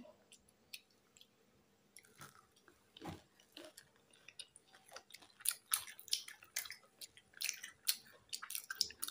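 Close, wet chewing and smacking while eating iftar food, irregular bites and squishy mouth sounds growing busier toward the end, with no talk over them.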